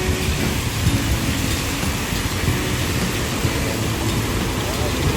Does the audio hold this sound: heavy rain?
yes